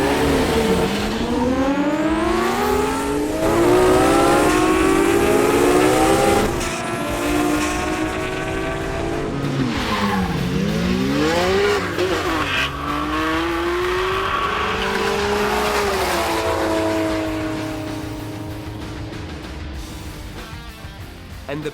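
Two tuned Nissan Skyline R33 GT-Rs race head to head on a track, their loud engines repeatedly revving up and shifting in sweeping climbs and drops, with a faint voice underneath.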